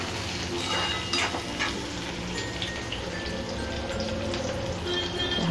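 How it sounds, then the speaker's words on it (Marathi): Green chili and onion hitting hot oil in a pan, a steady loud crackling sizzle with scattered sharper pops throughout, no talking. "आता आपलं तेल तापलं आहे, पण त्यात आधी मिरची टाकूया आणि मग त्याच्यावरती कांदा टाकूया"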